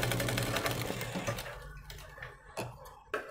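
A sewing machine stitches an umbrella dress, running in a fast, continuous rattle for about a second and a half, then slowing to a few separate stitch clicks and short bursts.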